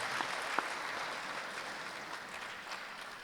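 At a graduation ceremony for WAIS, a crowd gives a steady, fairly quiet round of applause from many hands, slowly fading toward the end.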